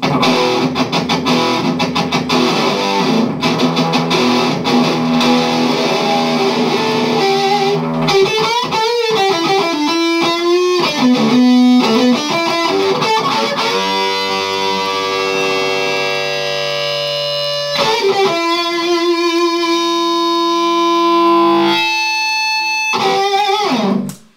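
A loud, heavily distorted electric guitar through a metal muff pedal into a VHT Special 6 amp head plays sustained chords and riffs with a thick, saturated tone, continuous and dense throughout, with no talking.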